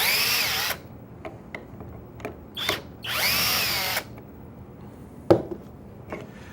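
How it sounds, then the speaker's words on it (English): A power drill backing screws out of a pocket hole joint in a woodworking shop, heard as two loud sustained whirring bursts with short clicks and taps between them, close by and with no talk. "you can easily back the screws out to disassemble a part"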